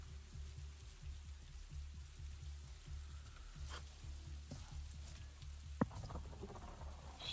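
Rain in a video game falls as a steady faint patter and hiss with a low droning bed, with one brief sharp knock near the end, no voices.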